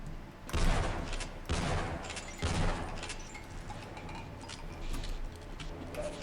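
A gun fires at a headcrab in a Valve game, three sharp shots spaced about a second apart, each with a short ringing tail, followed by fainter clicking and rattling.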